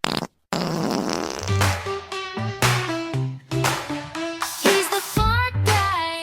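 A long string of loud, close fart sounds, wet and buzzing with changing pitch, rippling on in quick bursts for several seconds with hardly a pause.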